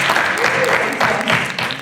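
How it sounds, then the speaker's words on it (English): A school talk show audience applauds a student guest, a dense sustained patter of many hands, fairly loud, with some voices mixed in. "let's give a round of applause for Hillary"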